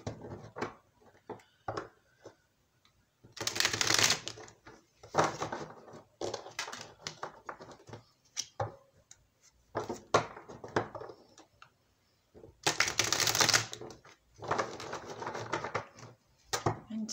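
Tarot cards are riffled and shuffled in several bursts, crisp fluttering riffles separated by quieter tapping and handling, close up with no talking.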